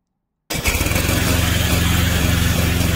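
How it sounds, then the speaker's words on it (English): A China-made crawler remote-controlled brush mower, model VTC550-90 with a snow blade, starts up after a moment of silence, and its small engine settles at once into a loud, steady, close buzzing idle. "Start the engine."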